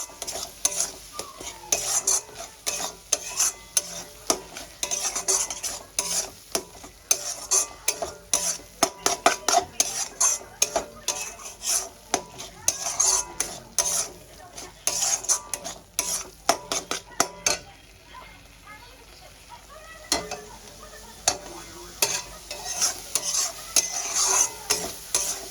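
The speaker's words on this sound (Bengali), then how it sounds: "হলুদ গুঁড়ো, স্বাদ মতো নুন, এইসব বেসিক মশলাগুলো দিয়ে ভালো করে কষাতে থাকবো।" Spices with turmeric powder and salt being sautéed in a pan, a spoon scraping and knocking against the metal in quick, irregular strokes over a soft sizzle, with a brief lull about two-thirds through before stirring resumes.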